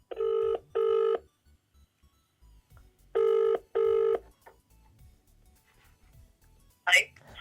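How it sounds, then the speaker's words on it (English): Telephone keypad tones sound in two pairs of steady beeps, loud and close, with a brief chirpy burst near the end as a call is placed on speakerphone; faint background murmurs otherwise. "So excuse me while I just give her a little ring."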